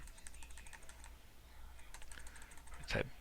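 Keys clicking on a computer keyboard in a quiet room, a steady run of light, close taps with a brief louder clatter near the end.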